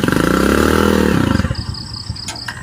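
Close motorcycle engine chugging in a fast regular beat, revving briefly before dropping to a quieter idle with light clatter.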